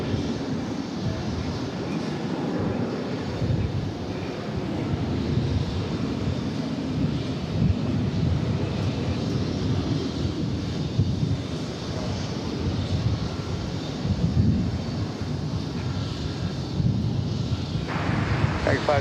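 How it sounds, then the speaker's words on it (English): A jet airplane taxis across runways at DFW Airport, its engines a steady, broad rumbling roar mixed with wind noise, holding constant throughout. "We'll get to see it traversing runways 18 right and left on its way over to the cargo facility"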